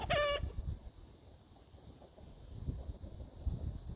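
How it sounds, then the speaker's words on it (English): A chicken gives a brief, sharp squawk at the start as a hen and a rooster fight, followed by faint scuffling and outdoor wind rumble with no further calls. "that's a hen he's fighting with"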